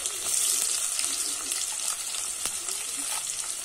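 Onions frying in a pan with cumin and green chilies for street-style veg chowmein, a steady close hiss with small crackles and no talk.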